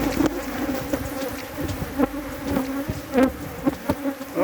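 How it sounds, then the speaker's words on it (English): Agitated honeybees buzz around an apiary colony in Trinidad, a dense close drone with individual bees zipping past the microphone. "the bees are real bad, behaving terrible. They're stinging me all there."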